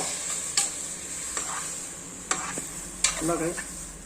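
Chopped plantain stirred in a pan over heat, a steady sizzle underneath with four distinct scraping strokes of the spoon spaced about a second apart, close and fairly quiet.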